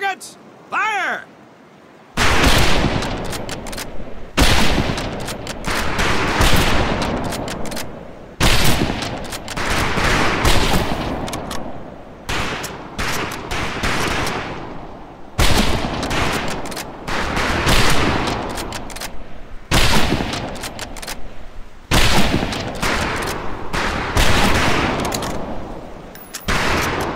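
Rifle fire on a boot camp shooting range in the video game Medal of Honor Pacific Assault. Dense volleys of shots and repeated bursts crack loudly for many seconds, with a few short pauses between them.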